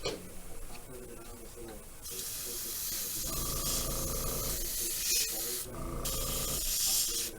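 An airbrush sprays paint onto a model kit in bursts of close, airy hiss that start and stop with the trigger, mixed with faint handling noises and brief tonal hums.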